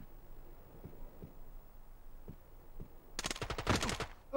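Gunfire in the PS1 game Rainbow Six, a few faint single taps followed by a loud dense burst of automatic fire near the end, with no talk.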